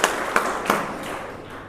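Audience applause at a Gurjar community welcome gathering in a village, a crowd clapping steadily with a few sharper claps standing out, moderately loud and continuous throughout.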